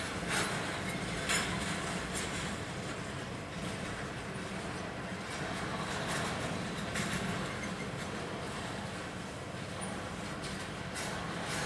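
A CN freight train rolls past a trackside defect detector at Sheldon on a cold day, giving a steady, moderately loud wash of rolling wagon noise with faint rhythmic clicks throughout, and no voices.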